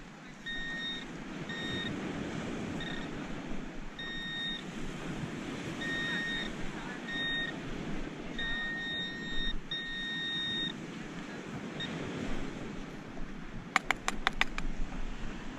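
Repeated high electronic beeps from a Makro Multi Kruzer metal detector in short bursts and sustained tones, reading 95 on rusty scrap metal, over a steady rushing background, followed by a quick rapid chatter of clicks near the end.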